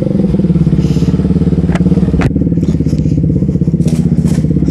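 A motorcycle being ridden, its engine thumping in a loud, steady close pulse with brief clatters and a couple of sharp knocks over nearly five seconds.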